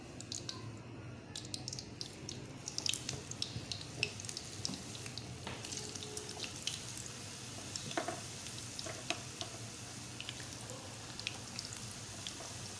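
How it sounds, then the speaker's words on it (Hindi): Potato french fries frying in a hot pan, a quiet continuous sizzle with scattered pops and faint stirring noises, heard up close with no talking. "आए हम इनको फ्राई करते हैं। पैन हमारा गर्म हो गया है"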